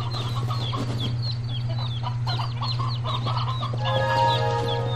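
Chickens in the video game Black Desert cluck and chirp repeatedly in quick, overlapping calls over a steady low electrical hum, with a busier burst of clucking near the end.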